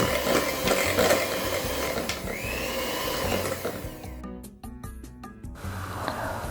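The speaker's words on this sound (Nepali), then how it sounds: "2 मिनट हाई स्पिडमा बिट गर्ने, त्यसपछि मिडियम स्पिडमा बिट गर्दै जाने है।" An electric mixer beating room-temperature butter at high speed, a loud continuous mechanical whir that drops into a brief stuttering rattle near the end before resuming.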